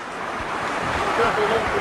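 Fast, cold river rapids churn in a loud, steady roar close by, with a faint hint of voices in the background.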